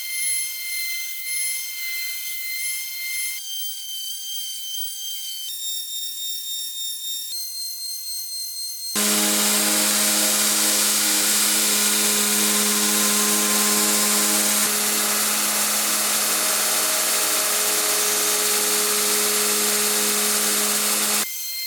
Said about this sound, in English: this blade is tempered, so I'm gonna go ahead and grind this off